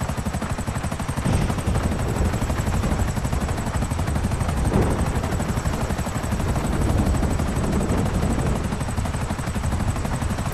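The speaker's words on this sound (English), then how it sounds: "Alright, put the chopper around so I can see what I'm doing." Helicopter rotor in Grand Theft Auto V, a loud steady thrumming drone that continues without a break, with a high whine running on top throughout.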